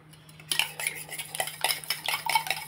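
A spoon stirs porridge (java) mixed with buttermilk in a metal pot, scraping and clinking in a steady, uneven rhythm close by, with a faint hum underneath.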